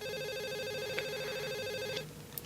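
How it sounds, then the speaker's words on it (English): A telephone rings in a spooky bedtime story, a steady warbling electronic trill that runs for about two seconds and then cuts off, followed by a faint click, with no one talking. "about 15 minutes later, the phone rang again."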